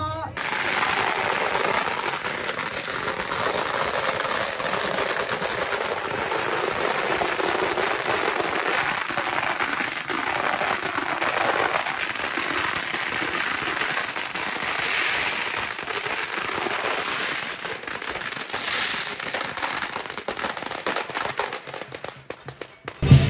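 Dense strings of firecrackers go off at the front gate of Phuoc Loc Tho on the first day of Lunar New Year, a continuous loud crackling roar lasting over twenty seconds amid a crowd, tapering near the end.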